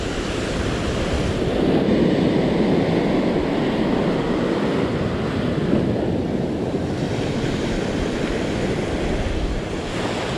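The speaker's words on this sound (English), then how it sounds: "Not liking this wind." Wind blows steadily across a surf fishing beach on Bribie Island, a constant broad rushing roar mixed with breaking surf, loud and unbroken throughout with no talking.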